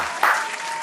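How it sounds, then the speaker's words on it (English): A church congregation clapping together as an offering of praise, a dense steady patter with one sharper surge near the start, moderately loud and sustained. "let's give a clap offering to the Lord"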